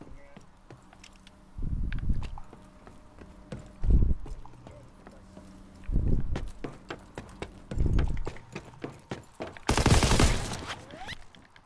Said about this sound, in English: That was a shotgun